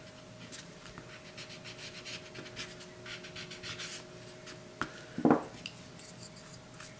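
A brush lightly flicks kneaded eraser crumbs off drawing paper in a run of soft quick swishes, followed by a sharper brief tap near the end, all close and quiet with no speech.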